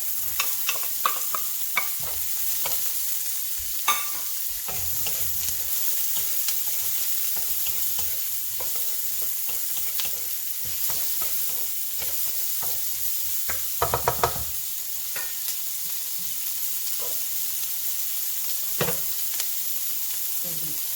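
Garlic, ginger, onions, lemongrass and kaffir lime leaves fry in a pan of oil, a soft continuous sizzle broken by scraping stirs and occasional sharp utensil knocks against the pan.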